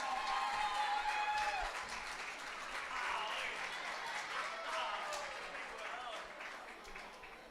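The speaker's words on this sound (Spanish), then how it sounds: "¡Fuertes aplausos!" An audience at a singing competition semifinal applauds warmly as performers are welcomed on stage. It is a dense, sustained wash of clapping that slowly fades, with voices faintly mixed in.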